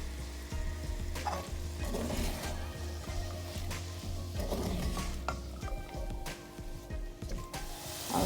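Marinated chicken frying lightly in a pan for chow mein, giving a steady close sizzle with scattered clinks and scrapes of stirring, and no talk.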